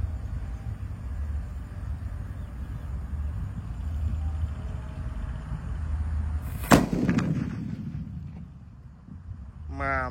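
A jumbo roll-paper firecracker goes off in one sharp, loud blast after a stretch of low background rumble and hiss, followed by a fading crackle and a short whistling burst near the end.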